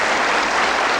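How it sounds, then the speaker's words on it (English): A television studio audience at the darts game show Bullseye, taped in 1984, breaks into loud, dense applause, a brief burst of close, continuous clapping. "Give them a nice, welcoming round of applause."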